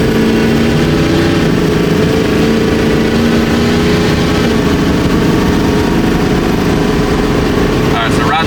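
A Ford F250 with a 6.0 Powerstroke diesel engine at wide open throttle, a loud, continuous, dense roar holding steady for the whole stretch, with a brief clatter near the end.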